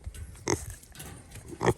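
Pigs on a small farm grunting as they are given eggs as a treat, with a few short, close grunts and snorts spaced through the moment, the loudest at the start and near the end.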